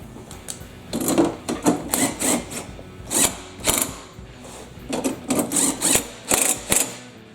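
Ratcheting clicks and mechanical rubbing as a tool tightens down a carburetor part on a Toro CCR 2000 snowblower, close-up bursts of clicking in uneven groups.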